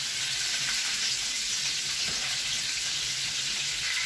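Black bream fries in a hot pan, a dense, steady sizzle and crackle that holds evenly and close for the whole stretch, with no talking.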